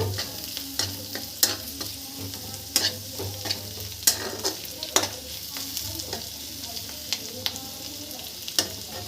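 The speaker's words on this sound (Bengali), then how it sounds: "ইনগ্রিডিয়েন্টসগুলো দিয়ে এখন আমি এটাকে ভেজে নিই" Vegetables for chicken chowmein sizzle and fry in a pan, with frequent clinks and scrapes of a spoon stirring throughout.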